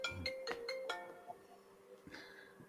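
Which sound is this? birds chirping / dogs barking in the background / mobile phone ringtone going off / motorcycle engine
mobile phone ringtone going off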